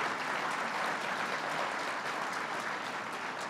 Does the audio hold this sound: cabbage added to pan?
no